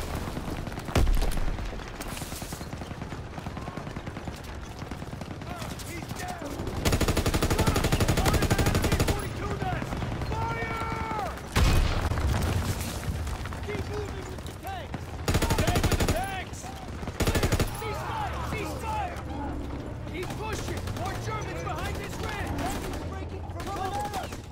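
Heavy gunfire in a Call of Duty WW2 battle against an MG42 nest, long sustained bursts and booming shots, loud and close, mixed with shouting voices and battlefield noise.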